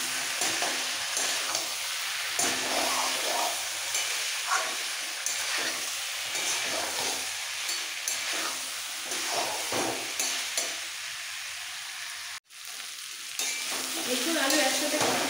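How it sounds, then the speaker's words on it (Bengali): Young jackfruit and potatoes sauté in a hot pan with a constant sizzle and repeated stirring and scraping strokes in a regular rhythm, close and fairly loud, with one brief dropout near the end; no voices. "এবার সব একসাথে কষাবো।"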